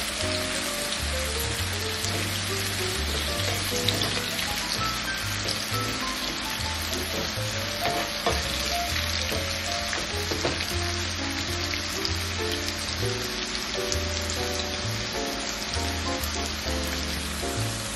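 Onions sauté in hot oil in a pan while being stirred, giving a steady, dense sizzle with crackling over the whole stretch, alone and fairly loud.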